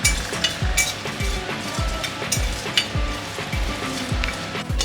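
Whole biryani spices dry-fry in a hot wok, with rhythmic scraping strokes of a spatula repeating about twice a second over a light, continuous crackle, close and fairly loud.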